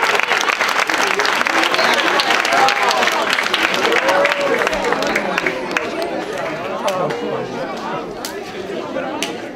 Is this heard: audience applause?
yes